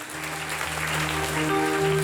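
A church congregation claps continuously, the applause building slightly louder toward the end, with a low hum and faint voices beneath.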